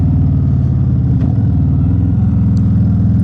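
A motorcycle engine drones steadily while riding on the road in the upper-40s chill, loud and close throughout with a constant low rumble and no voices.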